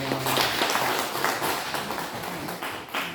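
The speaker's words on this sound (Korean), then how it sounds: "박수로 한번 환영하겠습니다." A church congregation claps together during a Sunday morning service at a Presbyterian church, welcoming first-time visitors. The dense applause runs steadily for about three seconds before tapering slightly.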